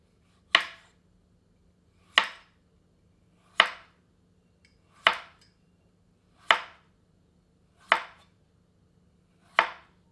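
Potatoes being chopped with a knife on a board for aloo katli, seven evenly spaced, sharp chops about every second and a half, close and clear with near silence between strikes.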